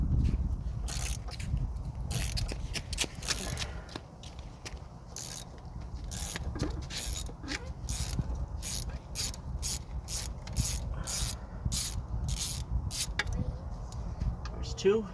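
Repeated ratcheting clicks from a socket wrench backing out T40 Torx bolts on a 1.9L SOHC Saturn S-Series engine, steady bursts of metallic ticking over a low workshop rumble.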